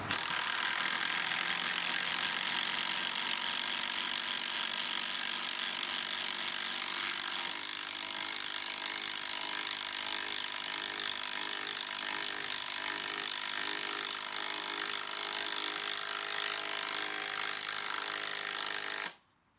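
Milwaukee M12 and Makita 12V 1/2 inch cordless impact wrenches, each on its highest standard setting with a fresh 2 Ah battery, run at full speed: a loud, continuous, dense mechanical hammering buzz that holds steady for nearly twenty seconds, then cuts off abruptly.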